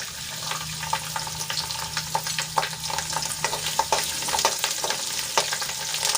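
Chopped garlic and cumin sizzle and crackle in hot oil, with asafoetida added, for a radish-greens dish; a steady close frying hiss runs throughout, broken by sharp pops and a few stirring scrapes.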